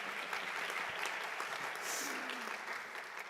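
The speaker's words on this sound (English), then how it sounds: "Let's give him a round of applause." An audience in the OCCC VPAC theater applauds steadily at a U.S. naturalization ceremony, a continuous moderately loud clapping that runs for the whole short stretch.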